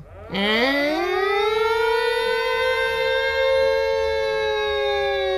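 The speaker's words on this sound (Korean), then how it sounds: "막 사이렌이 울리고" A military base siren starts with a quick upward sweep and then holds a loud, steady, harmonic-rich wail close by, with no voices.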